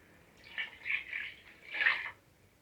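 Water poured into a cooking pot for prawn biryani, a soft splashing pour in a few short surges over about two seconds, quiet and close.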